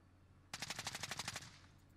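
Rapid automatic gunfire from a Stoner 63 in Call of Duty Cold War, a loud burst of about a dozen evenly spaced shots lasting roughly a second, then a brief fading tail, with no talk.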